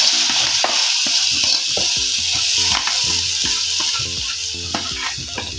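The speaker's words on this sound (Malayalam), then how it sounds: "അല്പം കറി ഇതിനകത്തോട്ട് ഒഴിച്ചിട്ട്" Curry being poured into hot oil in a pan for a raw mango and jackfruit seed curry, a loud close sizzle with repeated stirring scrapes and clatters, no talking.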